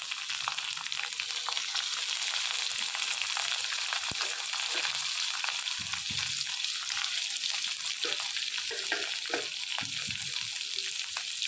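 Shallots and green chillies fry in oil with spices after mustard seeds have popped, for a ginger curry; a soft, even hiss of sizzling continues throughout, with occasional faint clicks and no voices.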